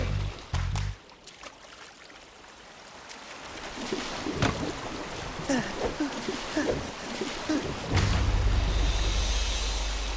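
Paddle strokes churn water as a small boat moves along in an animated scene, with splashy dips and trickling sounds at a moderate level and some background effects.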